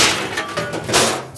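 A metal baking pan clangs and knocks a few times as it is pulled out in a kitchen, short bright metallic hits close to the listener.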